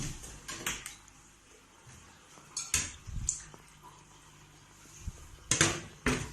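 Fish being stirred together with a handful of salt in a bowl while making dried salted tuyo fish, giving a few scattered clinks and scrapes against the bowl that stand out against a quiet room.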